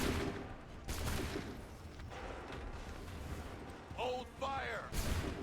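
A volley of musket fire in the video game Assassin's Creed III, booming blasts that burst out at the start and again near the end, with a soldier's shouted commands breaking in between.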